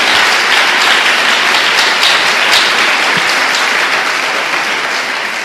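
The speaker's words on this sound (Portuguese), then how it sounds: "Dê uma salva de palmas ao Senhor." A church congregation gives a loud, sustained round of applause, dense clapping from many hands that holds steady and then eases slightly toward the end, with no talking over it.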